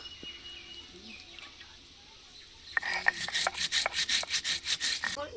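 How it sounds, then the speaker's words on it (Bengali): Mustard seeds and whole cumin being ground together on a grinding stone, a steady series of rough rhythmic scraping strokes that starts midway, close and fairly loud, with birds faintly in the background. "এক চামচ সরিষা আর এক চামচ গোটা জিরা নিয়ে নিয়েছি একসাথে বেটে নেব"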